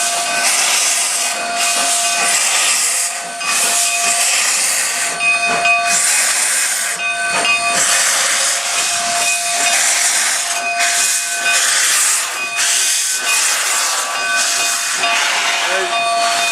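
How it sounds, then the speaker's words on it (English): Steady loud hiss of a steam locomotive with sustained whistle tones running throughout, continuous and close, with brief dips in the hissing. "It's a 90-year-old train."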